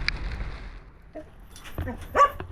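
Dogs give short yips and a whimpering bark close by, scattered over a few seconds, with faint background noise.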